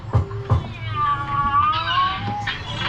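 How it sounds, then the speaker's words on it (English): A cat meows inside an Efteling fairy tale attraction, with wavering tonal cries drawn out over a low, noisy background hum and two short sharp sounds near the start. "Kitty cat hiding in the other one."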